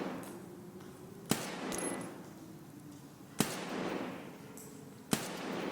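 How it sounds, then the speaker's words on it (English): Three sharp, loud rifle shots in the video game Escape from Tarkov, spaced about two seconds apart over a steady low ambient hum, each with a short decaying tail. "So I'm going to shoot like right there."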